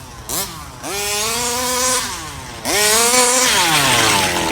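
A brand-new Rovan 34cc gas engine on its first start revs hard to high RPM, with a loud buzzing, chainsaw-like whine that climbs in pitch, drops back and surges again in two repeated bursts, close up.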